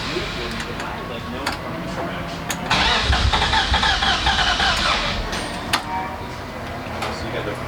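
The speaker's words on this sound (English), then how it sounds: "When I get in the car, I want to crank her, and I want to see what she sounds like." BMW E36 endurance race car with low compression cranking over for a few seconds, an uneven starter churn rising out of background noise and voices, then settling back.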